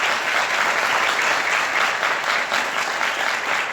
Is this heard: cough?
no